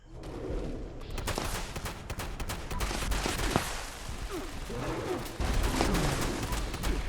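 Rapid, loud blasts from a quad double-barrel shotgun in the Fallout 76 video game fire in close succession, with dense crackling impacts and layered game effects filling the whole stretch.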